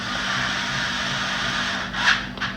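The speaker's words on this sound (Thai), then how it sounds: "เป็นยังไงบ้างครับสำหรับเจ้าตัวไขควงไร้สายนะครับ หรือว่าไขควงไฟฟ้าแบบไร้สาย" A cordless electric screwdriver drives a screw, giving a steady close whirring drone with a scraping, rubbing edge and two brief louder surges near the end.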